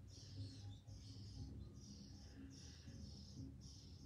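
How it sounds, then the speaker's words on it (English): Real small birds chirping inside a wall as they are fed, heard during a quiet indoor yoga class: faint, repeated high tweeting bursts at a regular pace over a low background hum. "listen to the little birds sing as they get fed"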